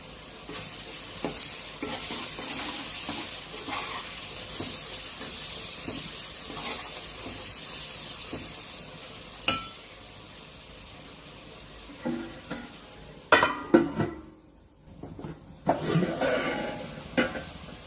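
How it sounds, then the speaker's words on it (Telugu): Onions sizzle steadily in a pan for a fish mango curry, with intermittent stirring scrapes and clatters and a few louder utensil knocks near the end, close and continuous without talk. "తొందరగా ఫ్రై అయిపోతాయి ఆనియన్స్"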